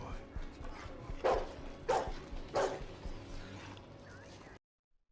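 A dog gives three sharp barks at regular intervals over a busy background of other sound and a voice in a TV drama scene, the barks standing out clearly before everything cuts to silence.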